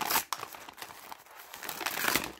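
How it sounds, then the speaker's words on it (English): A mail package of paper or plastic being torn and crinkled open by hand up close, a continuous rustling rip with a sharp start. "I'm just ripping it open."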